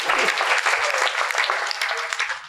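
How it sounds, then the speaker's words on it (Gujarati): A congregation at a religious discourse claps together in dense, loud applause that carries on steadily for a couple of seconds, with no talking over it. "તાળી પાડો પેલા, હવે તાળી પાડો."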